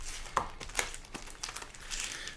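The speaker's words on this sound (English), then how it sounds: "Okay, we'll give these one more shuffle here." Magic: The Gathering cards are shuffled by hand, making a few quick, quiet papery snaps and flutters up close, with no talking.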